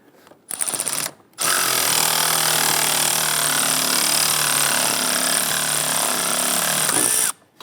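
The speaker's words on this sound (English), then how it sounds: "let's go ahead and tighten everything down" A power tool tightening bolts during work on a Jeep Grand Cherokee 3.6L V6, a couple of short bursts followed by one long continuous whir, loud and close.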